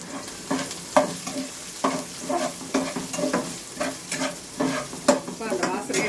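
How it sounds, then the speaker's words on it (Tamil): Small onions (shallots) sizzle and crackle in hot oil for a dry fish curry while a spoon stirs and scrapes the pan in repeated strokes, close up, with no talking. "எல்லாம் நல்லா பொரிய விடுங்க."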